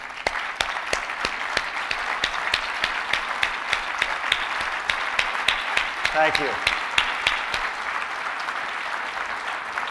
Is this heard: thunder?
no